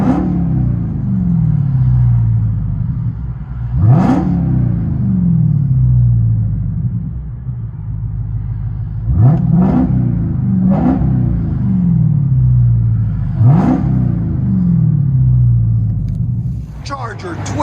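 A straight-piped 2021 Dodge Charger SRT Hellcat widebody idling with a deep, loud rumble, blipped about five times in sharp revs that rise and fall back, with voices under parts of it.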